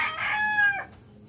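A native free-range rooster crows once, close and loud, its drawn-out call falling off near the end amid soft background clucking.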